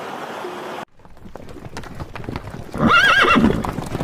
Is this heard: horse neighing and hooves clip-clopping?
yes